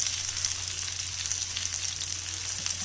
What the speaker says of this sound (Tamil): இப்போ நல்லா திருப்பி 4 பக்கமும் நல்லா வதங்கணும் கத்திரிக்காய்.